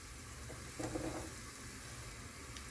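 Garlic and fenugreek seeds frying in hot oil for a tempering in carrot pappucharu give a quiet, steady sizzle with a brief stir around the middle. The sound is faint and close, with no talk.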